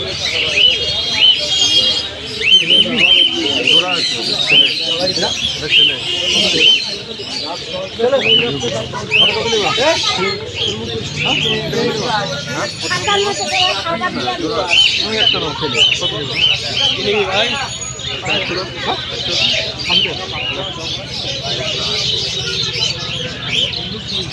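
Pigeons for sale at a cheap rural bird market in Birnagar chirp and coo with repeated small calls, close by and mostly under people talking and bargaining throughout.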